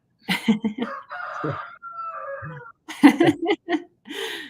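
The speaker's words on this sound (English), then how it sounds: "this week it's my rooster" A rooster crows in a drawn-out call between stretches of people talking nearby, the crow fairly faint beneath and between the voices.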